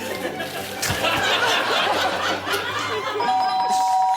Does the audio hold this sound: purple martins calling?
no